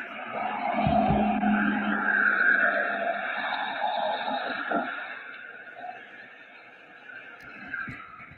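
A getaway car pulls away from a house during a porch theft, engine revving with a brief tire squeal, loud at first and then fading as it drives off, with no talking.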